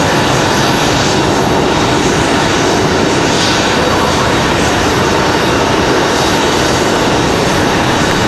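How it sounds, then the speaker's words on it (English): CRJ regional jet engine roaring steadily at Raleigh-Durham International Airport, a loud, broad rumble close by with no voices over it. "You guys can hear the CRJ down here."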